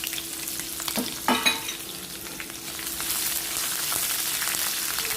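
Onion pieces, curry leaves and two green chillies fry in hot oil with a bright continuous sizzle, near and fairly loud, and a few stirring knocks early on.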